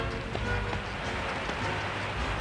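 Pouring rain falls as a steady, dense hiss with no pauses, filling the whole clip at an even level.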